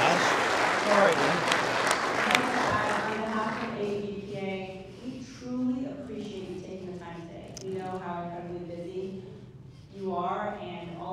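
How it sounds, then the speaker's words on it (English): Audience applause for three panelists at an industry panel session on the midstream sector, a burst of clapping at the start that fades under a voice speaking over it for most of the stretch. "let's take a moment and give these three a round of applause"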